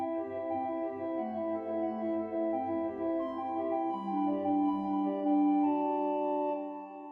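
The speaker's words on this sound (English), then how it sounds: "The positive division is based on an 8-foot chimney flute" The 8-foot chimney flute on the positive division of the 1908 Harrison & Harrison organ at Ely Cathedral plays a gentle, sustained chord sequence, smooth and moderately loud, fading out at the end without any speech.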